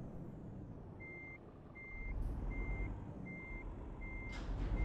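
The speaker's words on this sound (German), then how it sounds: "Fahren hier einfach mal rückwärts in den Verkehr hinein." A truck's reversing alarm beeps steadily, five evenly spaced tones over a constant engine rumble and road noise, with a brief hiss like an air brake, in the Euro Truck Simulator driving game.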